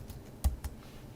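Two quick clicks from a computer keyboard, a louder keystroke followed by a softer one, close and otherwise quiet, typed while writing CSS code for a dropdown menu.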